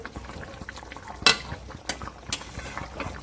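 Saiting fish curry with potatoes bubbling in a pot, a steady low simmer broken by a few sharp splashes or stirring clatters, heard alone without talk.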